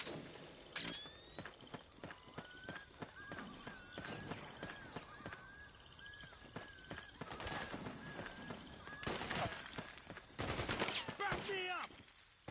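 Gunfire rattles through a Metal Gear Solid 4 battle, with repeated bursts and loud single cracks over a constant background din that keeps going across the whole stretch.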